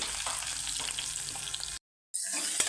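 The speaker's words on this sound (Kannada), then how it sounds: "ಈರುಳ್ಳಿ ಚೆನ್ನಾಗಿ ಬಾಡಿಸ್ಕೊಳ್ಬೇಕು" Two chopped medium onions fry in oil in a pan, with a steady close sizzle and light stirring. The sizzle cuts out for a moment near the end, then comes back.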